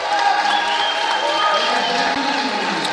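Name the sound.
crowd cheering at climbing championship finals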